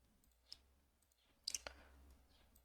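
A few quiet clicks of a computer mouse: a single click, a pause, then a quick cluster of two or three clicks close together.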